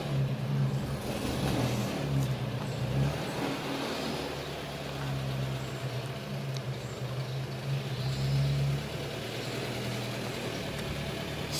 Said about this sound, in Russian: Вот выезжает наша газелька.